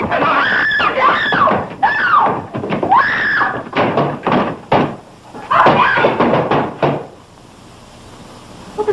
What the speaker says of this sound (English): What was all that screaming I heard?